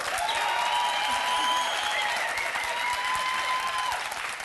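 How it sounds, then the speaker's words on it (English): Studio audience applause for the top six candidates on a leadership competition show, a dense, sustained round of clapping holding at an even level, with a faint musical tone running beneath it. "Give them a round of applause."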